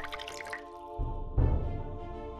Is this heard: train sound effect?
no